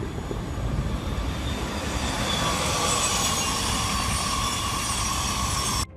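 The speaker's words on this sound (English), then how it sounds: "France has been creating the future for decades with this train series." An SNCF TGV-POS high-speed train roars past with a broad, steady rushing rumble and thin squealing tones, loud and continuous for several seconds before dropping off sharply at the end.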